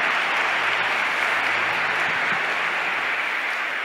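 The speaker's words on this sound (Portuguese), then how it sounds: "Uma salva de palmas a Jesus." A church congregation gives a steady, even round of applause throughout the service moment, a full wash of many hands clapping at once for a few seconds.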